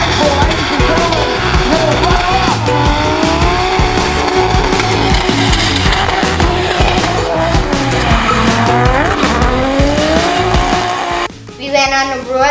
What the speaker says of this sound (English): Dad finally got his drift car going and he also went drag racing one time.